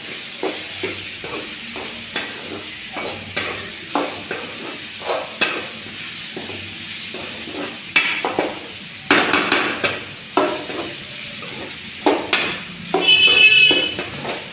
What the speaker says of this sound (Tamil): எண்ணெயில் கிளறிக்கிட்டே இருங்க